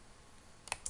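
Computer mouse clicked during work in SQL Server report software, two quick close clicks at the very end after near silence.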